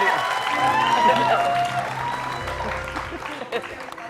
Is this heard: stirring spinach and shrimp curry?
no